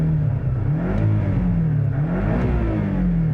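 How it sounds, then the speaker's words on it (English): 2024 Porsche 718 Cayman Style Edition flat-four engine revving in sport mode with the exhaust baffle open: a loud, close engine note that climbs and falls in quick swells, with no talking. "And it just revs so quickly,"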